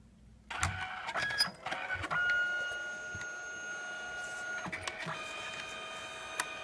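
A Canon photo printer printing a photo, with mechanical whirring, clicks and a sustained motor whine starting after a brief silence, then rhythmic feed movements and small knocks, close and moderately loud.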